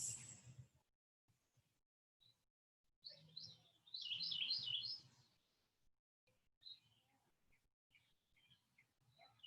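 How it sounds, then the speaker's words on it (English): Birds chirp in short, faint calls scattered through a quiet outdoor soundscape, with a brief louder burst of rapid tweets partway through and low distant background rumble. "You might hear birds."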